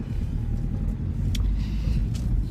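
A car driving into the city, with a steady low road rumble and engine drone from inside the moving vehicle, plus a couple of faint brief ticks; no one talks.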